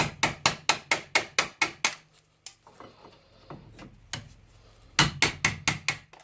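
Sharp metallic hammer blows knock a brake disc off a Citroën Saxo 1.5D, with pliers holding the disc. A rapid run of about nine strikes is followed by quieter clinks and scrapes, then another quick burst of blows, close and loud.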